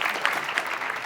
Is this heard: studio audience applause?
yes